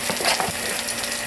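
Homemade potato cakes fry in oil in a pan, giving a loud, close, steady sizzle with faint scraping and stirring taps, and no voices.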